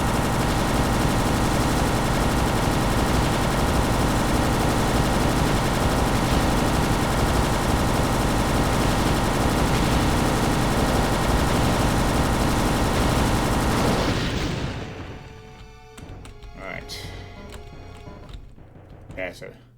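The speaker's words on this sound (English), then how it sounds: "Let's slow down with the firing." Sustained rapid gunfire in Doom, a dense, loud, unbroken stream of shots for roughly fourteen seconds, then it cuts off, leaving quieter scattered in-game sounds.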